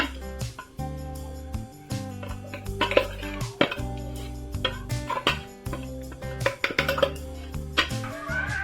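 Metal clanks and scrapes against a metal pot as a sesame and jaggery mixture is scooped in, with ringing clinks at irregular intervals.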